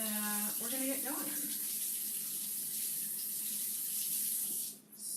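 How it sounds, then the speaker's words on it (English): Zucchini are rinsed under a running kitchen tap, a steady hissing stream of water that continues throughout and briefly changes tone near the end. "I'm going to rinse these off real quick."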